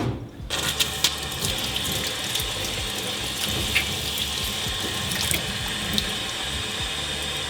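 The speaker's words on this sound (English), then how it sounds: "I just give it a little water from all sides." Running tap water rinses the detached parts of a Boel iTap X, a steady splashing, hissing stream close by, with small clatters as the pieces are turned under the flow.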